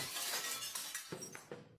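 A box of dinner set dishes falls and breaks during a house move, releasing a loud burst of shattering glass and ceramic followed by several smaller clinks and crunches of settling shards.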